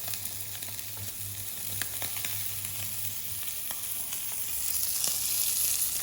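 Meat pressed flat into a hot frying pan, giving a continuous close sizzle and crackle of fat rendering, steady and unbroken with no talking.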